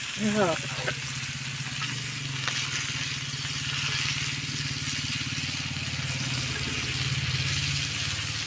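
Rohu fish frying gently in a pan over low heat, a continuous soft sizzle running beneath people talking nearby.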